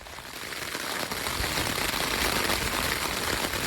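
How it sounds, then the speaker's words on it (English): Heavy rain pours steadily in Woodland Caribou woodland with a dense, loud hiss that holds for the whole stretch. "Well, on the plus side, it's raining harder."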